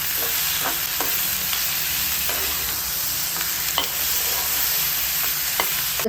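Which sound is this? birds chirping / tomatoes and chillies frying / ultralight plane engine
tomatoes and chillies frying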